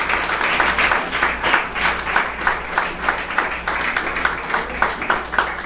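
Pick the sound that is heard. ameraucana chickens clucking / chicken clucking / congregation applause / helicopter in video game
congregation applause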